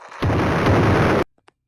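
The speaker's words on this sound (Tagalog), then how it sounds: "Ang dami na din nagpapaputok." Firecrackers go off outside a simple house in the Philippines: a dense, crackling burst of rapid pops and booms for about a second, cutting off abruptly, followed by two faint distant pops.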